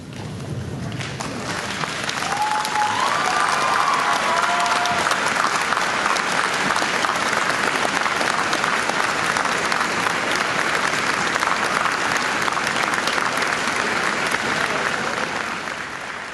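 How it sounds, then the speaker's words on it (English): Sustained applause from a large audience at a university convocation ceremony, dense steady clapping that swells quickly and continues for the full length before tapering slightly, with a few faint voices mixed in. "look around and give them an applause for everyone here"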